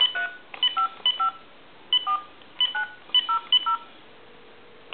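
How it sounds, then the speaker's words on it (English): Touch-tone dialing on a telephone sends out a string of about sixteen short DTMF beeps in uneven clusters, clear and close, followed by a faint low hum. "I'm going to dial with another telephone a time and temp number."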